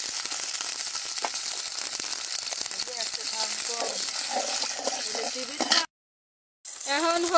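Onions frying in a wok hiss and crackle as water goes in, with stirring scrapes and a voice talking over the cooking before a brief gap of silence.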